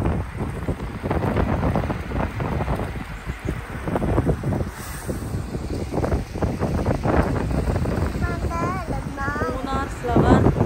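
Cold wind blows at Munnar, hill country in Kerala, buffeting the microphone in a loud, continuous rush. Voices rise faintly near the end.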